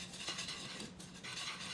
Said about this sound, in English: I'm just gonna slowly whisk this around, and then I'm gonna add in 2 cups of milk.